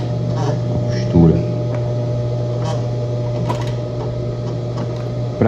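An electric sewing machine backstitches a seam on a handmade Kelly bag, its motor giving a steady whirring hum, with a brief clatter of the mechanism partway through.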